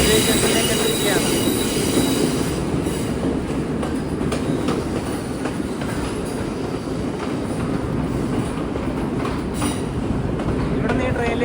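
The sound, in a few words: train arriving at Colombo Fort station, wheels squealing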